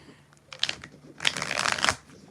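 Tarot cards being shuffled by hand, a short riffle burst followed by a longer, louder crisp flurry of papery flutter, close and fairly quiet.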